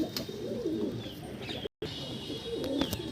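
Patta pigeons in a home loft collection, among them young chicks, coo in low rolling phrases nearby, with a few light chirps and a brief dropout midway.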